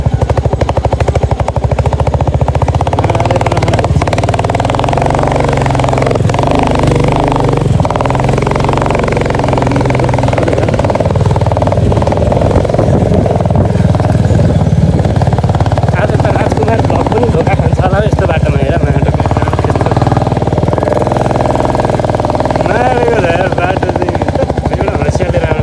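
A motorbike rides along a rough, overgrown rural track on the way to Tejok in the hills near Phidim, Nepal. Its engine drones loudly and steadily throughout, with bumps and rattles from the uneven road and no clear talk.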